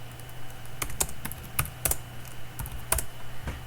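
Quiet keystrokes on a computer keyboard as a short pwd command is typed: about a dozen crisp, uneven clicks over a faint steady hum, with no voice.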